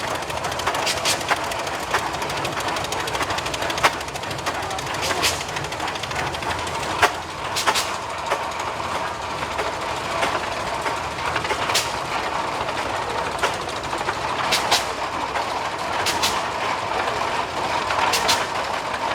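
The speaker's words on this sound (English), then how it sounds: "Makes a lot of noise. Puffing and clanking and growling and everything, but still operating, going through the parade" An old antique tractor from a pioneer village collection rumbles steadily through a parade, a continuous mechanical clatter with repeated sharp clanks and knocks scattered over the drone, no talk.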